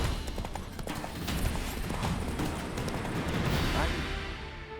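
Roach the horse from The Witcher 3 spooked by ghosts: steady hoof clip-clop with a brief whinny, close and continuous under game ambience, with a voice speaking over it.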